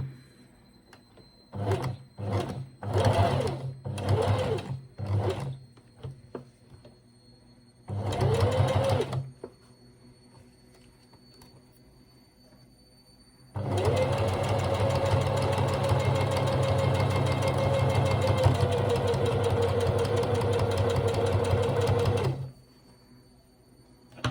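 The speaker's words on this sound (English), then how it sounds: "let's just sew these 2 together." A sewing machine stitches a wool coat collar in several short bursts of a few seconds each, then runs steadily for about nine seconds. The motor hum is close and fairly loud, with quiet gaps between runs.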